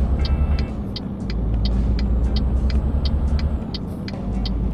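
A truck being driven in Euro Truck Simulator 2 gives a steady low engine rumble, with a regular ticking click repeating over it like a turn signal, close and continuous with no talk.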